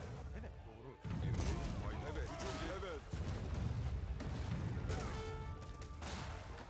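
Grenadiers attacking in Age of Empires: repeated explosive blasts and crashing gunfire-like bursts over a constant battle din, with a voice talking over the fighting.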